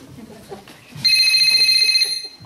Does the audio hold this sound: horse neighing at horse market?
no